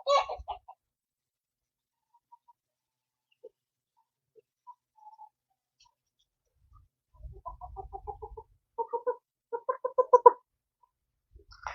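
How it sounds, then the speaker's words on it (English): Scattered clucks and short calls from a few chickens, close by, growing busier toward the end, with a brief low rumble partway through. "There's my chickens."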